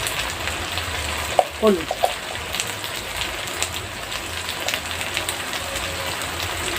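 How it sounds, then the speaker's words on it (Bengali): Chopped tomatoes and spice masala frying for a spicy duck curry over an earthen stove: a continuous crackling sizzle with a few stirring scrapes, and a voice speaks briefly. "মশলাগুলো কষানো রেডি হয়ে গেছে।"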